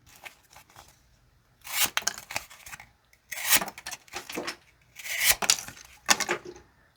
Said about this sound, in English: let's close it up with a little bit of cardboard cutting